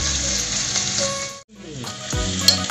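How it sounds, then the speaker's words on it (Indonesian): Garlic stir-frying in a hot pan for sweet corn and salted fish, a steady broadband sizzle with a brief dip midway, then scraping and stirring clatter as the pan is tossed. "Masuk bawang putihnya ya. Kita goyang lagi. Kita tumis-tumis dulu ya."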